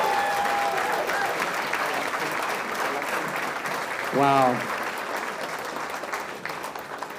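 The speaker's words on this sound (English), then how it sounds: "I think you deserve another round of applause." Audience applause fills a scholarship dinner hall as a running fundraising total is announced, a steady crowd clatter with a person exclaiming briefly over it.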